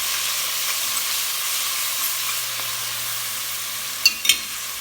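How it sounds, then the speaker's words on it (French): Drained spices being stirred into clarified butter in a pan for Afghan pilaf, giving a steady soft sizzle under the stirring, with a couple of sharp scrapes and clinks near the end. "Je rajoute les épices que j'ai fait égoutter. On va mélanger."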